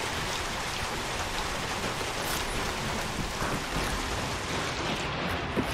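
Steady, dense rain in the video game Hunt: Showdown pours down without a break, a loud, even hiss of drops hitting surfaces with faint rumbles underneath and no speech.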